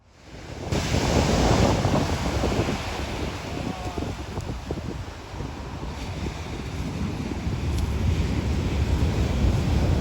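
Ocean surf rolling and breaking steadily on a Florida beach, a loud continuous wash of waves with gusts of wind buffeting the microphone throughout.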